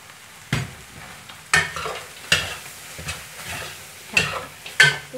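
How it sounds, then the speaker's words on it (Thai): Fish maw stir-fried dry in a wok over high heat, with bean sprouts added, gives repeated scraping stirs roughly once a second over a steady sizzle, close and clear with no talk. "ใช้ไฟแรงนะคะผัดเขาให้แห้ง"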